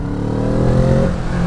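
A 2017 Kawasaki Z650 accelerates from 40 km/h on a light twist of the throttle, its engine a loud, close, steady drone with a rising note, heard briefly and without speech.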